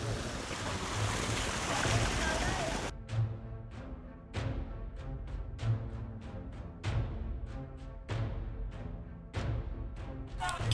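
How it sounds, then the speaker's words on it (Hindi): Water from a waterfall in Mana village, Uttarakhand, rushes as a loud, dense roar for about three seconds, then cuts off, leaving quiet sharp clicks and knocks. "पानी बह रहा है"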